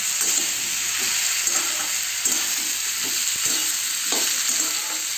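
Potatoes fry in hot oil while being stirred around the pan, making a loud, continuous sizzle broken by rhythmic scraping and clattering of the spoon, with no voices.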